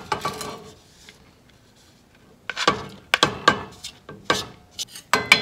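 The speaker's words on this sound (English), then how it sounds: "And then now we're gonna add in our rice" Dry rice poured into a cooking pot at home, a series of sharp rattling, scraping bursts after a quiet start, several loud close pours in quick succession with no talking.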